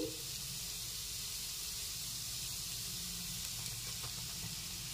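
Dry flour stirred into a pan with fried grated garlic, giving a soft, continuous sizzling hiss that stays faint and even throughout.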